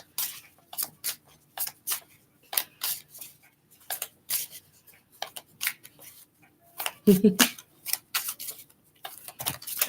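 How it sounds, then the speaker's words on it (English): Crisp, rapid riffling of playing cards being shuffled, in repeated bursts with short pauses between them, close by, with a brief low sound near the end. "If I'm by my cards, I just shuffle them."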